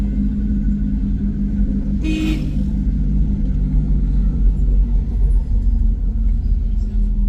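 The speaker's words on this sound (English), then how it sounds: "The bus which is coming is going to Nairobi and Kampala." A bus approaches along a city street in Kayanza, a heavy steady engine rumble growing slightly nearer, with a brief sharp hiss partway through and distant street noise.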